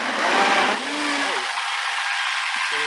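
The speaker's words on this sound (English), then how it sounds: "Sounds like it's doing a good job." Kitchen blender running loud and close, a dense whirring roar that drops off partway through, leaving a low hum and short bits of voice after it.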